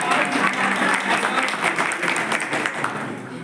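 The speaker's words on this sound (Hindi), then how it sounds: "अब मैं चाहता हूं कि एक तालियां मेरे लिए बजा दीजिए" An audience at a street play on voter awareness claps steadily for the people who arranged tea and water, a dense, loud round of applause holding for several seconds before fading slightly.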